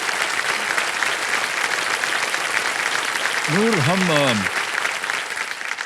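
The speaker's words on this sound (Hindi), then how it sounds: "तालियों के साथ एक बार फिर उनका स्वागत किया." A television studio audience applauds a women's ice hockey team on a quiz show, sustained dense clapping throughout while someone speaks briefly over it.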